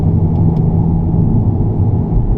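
An Audi S3 (8V facelift, 2017) engine in efficiency mode settles into a low, loud rumbling drone from inside the car, steady and deep as the revs ease off, with no speech.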